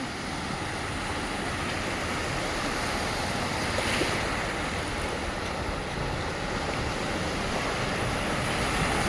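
Canal water overflows onto a road from the Machchhu 2 canal in Morbi, a loud continuous rushing roar with wind buffeting the microphone, with no pauses.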